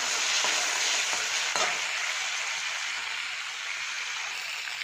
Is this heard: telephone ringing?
no